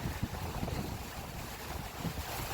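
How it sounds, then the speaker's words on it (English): Strong coastal wind buffets the microphone outdoors near an old coast guard house in Florida, a continuous loud roar with gusty swells and no voices. "super windy"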